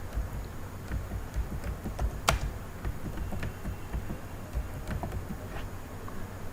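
Fingers type on a computer keyboard in a run of quiet, irregular key clicks over a low background hum, with one sharper tap standing out.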